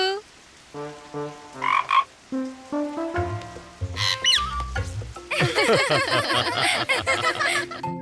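Repeated croaking frog calls ring out loud and close over a bouncy, playful tune, with no talking.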